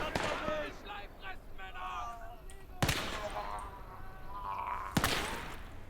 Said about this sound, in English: Starting to shoot at us again.